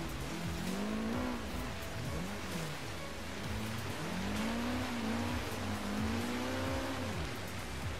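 A Nissan S14 Zenki drifting through snow in the video game Forza Horizon 3, its engine note rising and falling in repeated revving sweeps over a constant hiss from the wheels.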